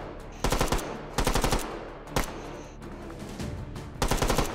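Rapid bursts of automatic gunfire in the video game Meat Fortress, loud and close, coming in several short clusters with brief pauses between them and no talking.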